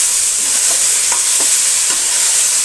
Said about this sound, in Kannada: ಫ್ರೈ ಆಗಲಿ ಟೊಮೆಟೊ ಜೊತೆ.